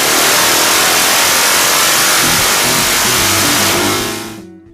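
A street bike with drag pipes and a bolt fitted in the exhaust roars at high revs on a dyno, a loud, steady, harsh engine blare that cuts off abruptly at the end.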